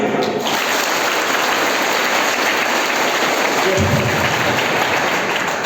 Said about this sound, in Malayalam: നിങ്ങളുടെ കയ്യടി നല്ല ഗംഭീര കയ്യടിയാണ്